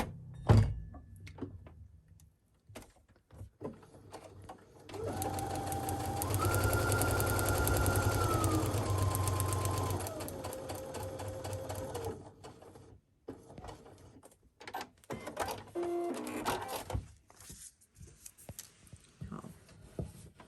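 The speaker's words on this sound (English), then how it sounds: "Flip it over and sew on that line between A2 and A3." A sewing machine stitches a paper-pieced quilt block, a steady mechanical whirring run of about five seconds rising and shifting pitch, surrounded by handling clicks and thumps of fabric and paper.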